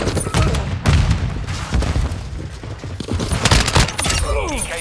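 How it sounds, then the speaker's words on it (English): Semtex grenade blasts and heavy gunfire in Call of Duty Modern Warfare II Kill Confirmed multiplayer on PS5, loud booming thuds and rattling shots in quick succession, with a sharp crack and debris-like scatter near the end. "Throwing Semtex."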